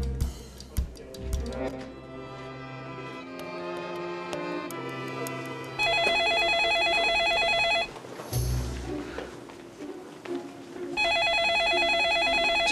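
A telephone rings in a Kazakh drama series scene, with repeated bursts of electronic ringing in loud stretches between quieter sounds and movement, clear and near.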